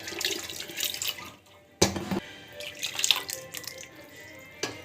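Water is poured from a vessel into a pot of cooking mango dal, giving a splashing gush that stops, then a second short pour with trickling and dripping, close and fairly loud.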